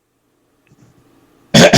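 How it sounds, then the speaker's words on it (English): One brief, sharp throat clearing comes close at the end, after a moment of near silence with faint low rustling. "I gotta clear my throat for this one"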